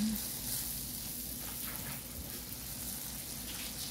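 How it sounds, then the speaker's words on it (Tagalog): Crushed sardines sautéing in a pan for ginataang langka, a steady soft sizzle and crackle running throughout at moderate level, with faint background noise and no clear talk. "igisa lang natin"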